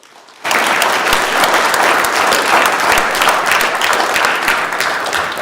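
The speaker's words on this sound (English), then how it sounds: "Please give them a huge round of applause" A large crowd on a state senate floor breaks into a huge round of applause, the clapping starting abruptly after a brief quiet moment and continuing as a loud, dense, steady roar of hands.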